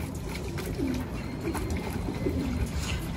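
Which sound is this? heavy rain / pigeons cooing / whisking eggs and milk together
pigeons cooing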